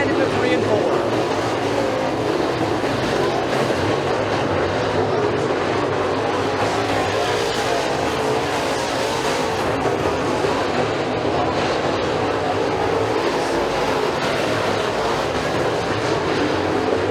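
Late model race cars roar into turns 3 and 4 at McKean County Raceway in a dense, continuous engine drone with no breaks. An announcer talks over the noise throughout.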